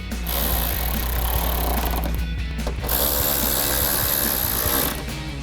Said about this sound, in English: We'll go ahead and grab our ratchet and 10mm socket and tighten those two.